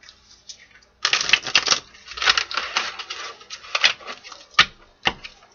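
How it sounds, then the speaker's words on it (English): A deck of tarot cards is shuffled by hand in quick, papery riffling bursts, with sharper taps and slaps between them. The sound is close and fairly loud, with no talking over it. "Two more shuffles, my guys."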